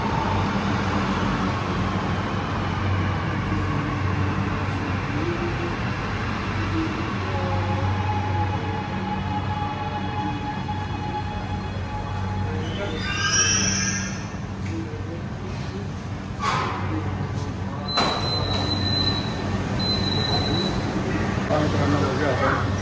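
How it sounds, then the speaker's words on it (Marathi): A Mumbai Metro Line 3 train arrives at an underground station, a low rumble and whine building under station ambience, with a brief squeal of brakes and a high electronic chime as it stops; someone talks over it. "हे बघा मित्रांनो मेट्रो आली आपली आता."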